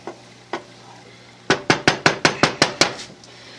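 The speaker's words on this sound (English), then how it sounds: "So now we're going to mix in our eggs." A flat wooden spoon works eggs into fried rice, knocking against the pan in a quick run of about nine sharp, evenly spaced taps after two earlier single knocks.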